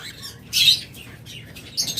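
An albino red-eye lovebird gives short, bright chirps: one louder burst near the start and a second flurry at the end, close by, with quieter cheeps between them.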